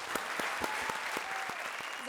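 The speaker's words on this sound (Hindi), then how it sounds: "जोरदार तालियां रोहित और राजीव के लिए" A studio audience at a comedy show claps steadily throughout, a dense sustained applause with a few sharper claps standing out.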